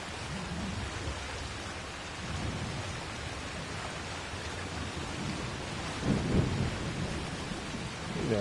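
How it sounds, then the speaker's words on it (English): A thunderstorm with rain in the video game Assassin's Creed Shadows, a constant rain wash with low rolling rumbles of thunder and a louder crack about two thirds through. "proper storm that is coming down"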